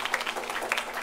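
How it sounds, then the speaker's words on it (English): A short burst of steady, fairly dense clapping from an audience at a primary schools quiz competition, applauding the two competing teams, heard alone without speech. "Can we give them a round of applause, please?"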